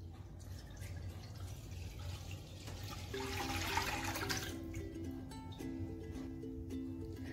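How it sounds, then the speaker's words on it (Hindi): Milk pours into a kadai set on a stove for carrot halwa, a steady liquid splash and fill sound that swells in the middle and then settles, heard close with no talking. "अब सबसे पहले हमने दूध डालना है इसके अंदर।"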